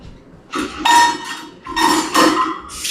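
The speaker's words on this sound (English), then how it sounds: "Shake off your whisk." A whisk is shaken and rapped against a mixing bowl of muffin batter, giving a few separate bursts of ringing metallic clinks up close.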